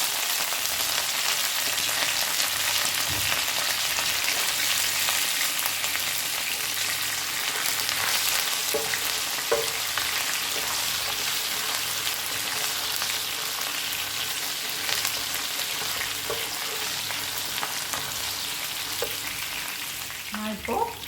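Green chillies and curry leaves fry in hot oil during a pickled shrimp recipe, giving a continuous loud sizzle with occasional stirring clinks and scrapes, no talking over it.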